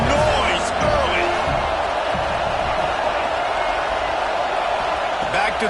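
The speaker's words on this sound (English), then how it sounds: "This crowd bringing the energy and noise early." A football stadium crowd keeps up a loud, steady roar throughout, with a few sharper thuds and faint voices mixed into the wash of noise.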